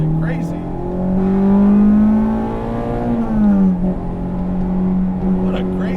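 A 1998 Acura Integra GSR, an all-motor build with a light flywheel, revs up sharply from idle, its engine tone climbing and falling back quickly before settling into a steady, loud, close drone.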